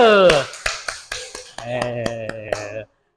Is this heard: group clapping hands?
yes